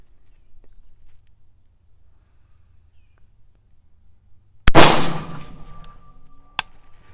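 An MK12 Mod 0 rifle fires a single loud, close shot of 77 grain SMK ammunition after a quiet lead-in, and the report rings and decays, followed by a couple of small metallic clicks.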